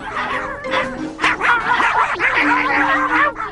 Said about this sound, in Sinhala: ඔව් ඔව් මන් දැන් යන්නේ කෑ ගහන බල්ලෝ ටික ඉන්න ගේ ගාවින් තමයි.